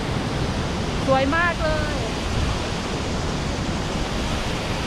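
Steady broadband roar of the Krka waterfalls in Croatia's national park, loud and constant throughout, with someone briefly speaking over the rushing water.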